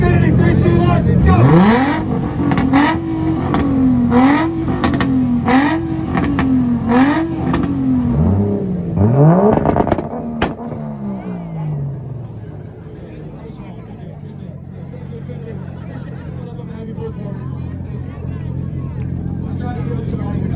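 An Infiniti car in a two-step rev battle at IFO Ohio 2023 bounces off its limiter in loud, pulsing revs, then drops to a lower idle rumble, with voices and crowd noise around it.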